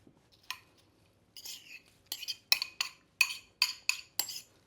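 Creamy cabbage casserole stirred in a small bowl, with a spoon giving a run of crisp scraping clinks that quicken into about eight rhythmic strokes, close and clear, with no talk over them.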